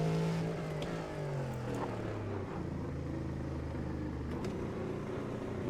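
A Cadillac LMDH race car engine in the iRacing sim, its combustion engine droning and shifting in pitch as it revs and changes gear, moderately loud and continuous with no voices.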